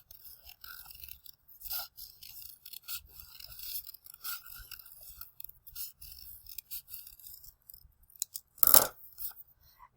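Scissors snip repeatedly through folded paper, cutting out a wavy shape for a sugar skull craft; close, quiet cuts come in uneven bursts, with one louder crisp snip near the end.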